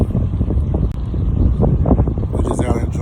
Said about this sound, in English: We're just out enjoying this windy day.